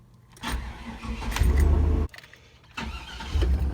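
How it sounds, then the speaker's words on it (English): A 1999 Chevy Suburban 1500 with a replaced starter cranks twice in quick succession, a loud churning whir with a short pause between attempts, close by and with no talking. "listen to the comparison of the starters"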